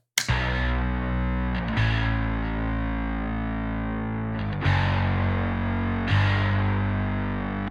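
Distorted guitar tone through a Marshall amp sim with a parallax texture effect, heavy sustained chords struck several times, each attack bright and loud before the shimmering texture thins out over a couple of seconds, no talk.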